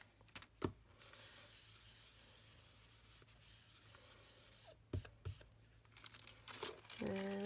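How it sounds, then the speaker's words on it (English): Embossing buddy tool rubbed over a Valentine's card, giving soft, quiet rubbing and light scuffing strokes with a few sharp taps and brief handling noises near the end. "Going to use my embossing buddy."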